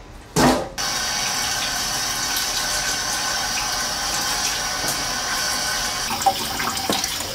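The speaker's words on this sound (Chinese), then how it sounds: "我们把那鸡腿洗一下哈， 再洗一遍。" Tap water runs steadily from a kitchen faucet while chicken drumsticks are rinsed, a continuous close hiss and splash lasting several seconds after a short burst at the start.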